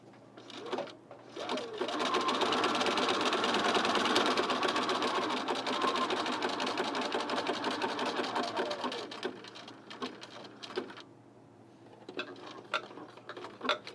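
A sewing machine stitches an unlined auburn blazer, running in a long steady whir with fast ticking needle strokes, then slowing and stopping in short bursts as the fabric is pivoted. It is close and fairly loud, with no talk.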